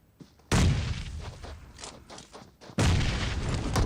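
A grenade goes off in a PUBG match as a sudden loud boom, followed by lingering rumble and scattered thuds, then a second heavy blast near the end.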